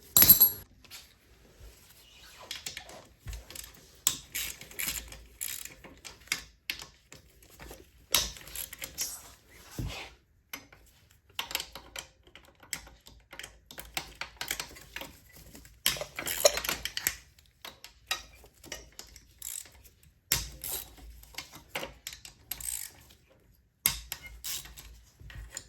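A ratchet loosens the clutch cover bolts on a dirt bike, giving sparse, faint metallic clicks and creaks in short irregular bursts with quiet gaps between them.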